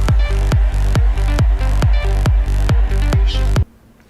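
Synth bass line played as a loud, steady run of punchy plucked notes at an even pace, each with a deep low end and a quick bright attack, alone and ending in a short fading tail.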